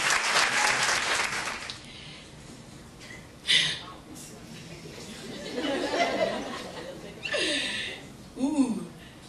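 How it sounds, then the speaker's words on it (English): Audience applause at a soul music showcase greets a performer coming to the microphone, loud at first then fading, with crowd chatter and later bursts of clapping and cheers around a singer. "keep the applause rolling"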